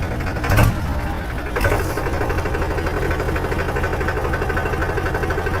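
A tractor engine runs with a steady mid-pitched chugging hum, and two brief louder bursts come early on.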